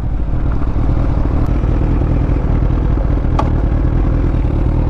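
Honda CBR 1000RR motorcycle engine turning around on a road, a loud steady drone with wind roar throughout and no clear revving change, no talking.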